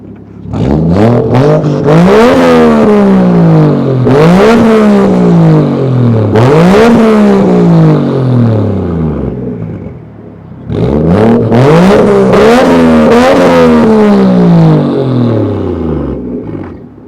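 A Toyota Chaser Tourer V (JZX100) with a 1JZ engine and full dual muffler revs loudly several times in quick succession, roaring up and dropping back, then pauses briefly before another series of aggressive revs.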